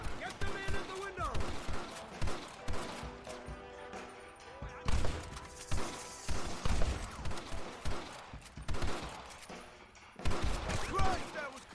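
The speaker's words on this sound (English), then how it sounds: "Open fire. Get the man in the window." Gunfire crackles through a Red Dead Redemption video game shootout, repeated loud shots in irregular bursts with sharp cracks and echoing tails, dense and close, overlapping one another.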